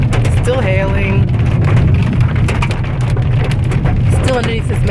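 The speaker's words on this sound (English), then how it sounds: "Still hailing." Hail hammers on a car under a massive storm cloud on a plateau in the Andes near Mendoza, a dense, loud drumming patter that runs continuously while people talk over it.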